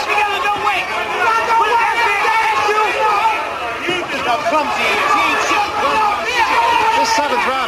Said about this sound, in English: Crowd very supportive right now of Michael Spinks.